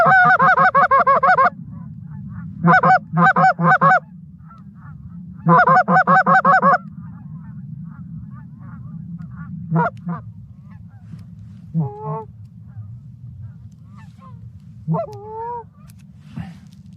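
Geese honk in loud, repeated bursts during a goose hunt, then several scattered single calls follow over a low steady background rumble, with no talk.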